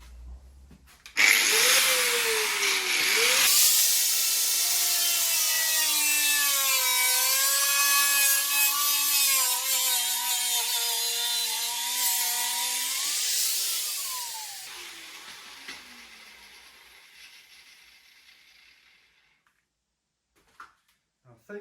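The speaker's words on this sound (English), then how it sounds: "I'm going to cut the back section off because that's sticking out way too much" A power tool cuts through the rear section of a BMW E30 wheel arch, a loud sustained whine with shifting pitch running for about ten seconds before winding down and fading, with brief handling noises at the start and end.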